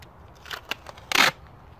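Tape is pulled and torn while masking Honda Civic FN2 bodywork: a few small crackly strips, then one louder tearing rip, close and brief.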